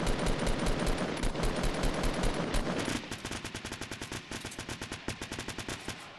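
Rapid bursts of automatic gunfire from the video game Fortnite, loud and continuous: dense repeated shots for about three seconds, then a slightly quieter, steady run of evenly spaced rounds until the end.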